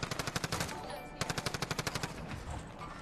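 Rapid automatic gunfire in a shooter video game, loud bursts of evenly spaced shots with a brief pause between two volleys, then fading into a softer clatter.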